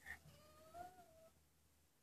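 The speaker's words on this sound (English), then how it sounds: "That was my cat, Oreo." A house cat gives a short, quiet meow with a drawn-out tone in an otherwise silent room, followed by a sudden loud bump at the end.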